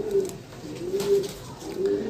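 Saharanpuri pigeons coo softly in short, low repeated phrases, three coos in quick succession, close by and heard alone without talking.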